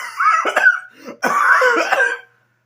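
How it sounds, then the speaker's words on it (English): A person coughs twice, close and loud, a harsh raspy burst followed by a longer throaty cough, then silence. "are you serious coughing on this woman's back?"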